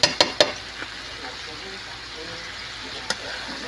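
Food frying in a pan with vinegar being added, a steady soft sizzle running throughout with a few sharp clinks of utensils near the start and another at the end, close and moderately quiet.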